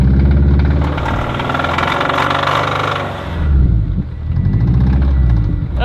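A Subaru WRX engine idles roughly and sounds close to failing, with a steady, loud, low throbbing drone that dips briefly before resuming.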